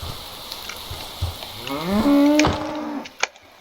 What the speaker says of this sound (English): Or maybe it's just a cow with the new sounds of this mod.